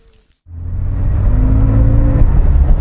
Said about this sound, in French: Nous voici donc à l'essai dans cette Porsche 911 SC de 1981. Moteur 3 litres.